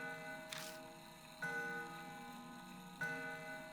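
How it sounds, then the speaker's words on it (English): A clock inside the Death Mark video game, with a tonal chime or bell strike sounding three times at roughly even intervals, each ringing out and decaying over a faint droning background. "Looking up, I can spy the outline of a clock. I bet that's what's making the sound."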